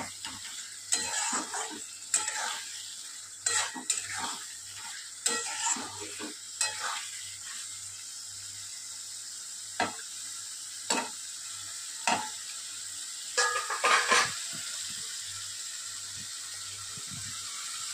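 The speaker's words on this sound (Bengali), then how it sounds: "একটুখানি কষিয়ে নিয়ে আর খুব ভালো করে মশলা তেল ছেড়ে গিয়েছে" Spice masala being sautéed in oil for a potol chingri (pointed gourd and prawn) curry, with a quiet background sizzle broken by repeated sharp spoon scrapes and stirring clatters, all without talk.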